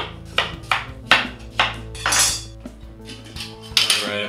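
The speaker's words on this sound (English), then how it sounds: "we're just gonna start by slicing our cucumbers very thin" A knife slices cucumbers very thin on a cutting board, giving a series of close, sharp knocks at an uneven rhythm, about eight or nine cuts, with clatter between them in a kitchen.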